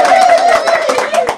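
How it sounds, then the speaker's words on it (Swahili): Brief applause for Samido at a gathering, rapid hand claps heard under a loud voice that carries on over the clapping. "wapi makofi ya Samido sasa"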